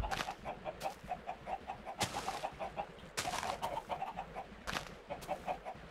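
Minecraft chickens on a video-game farm cluck repeatedly in a steady rhythm, a chorus of short synthetic clucks with occasional louder bursts, alone with no talk.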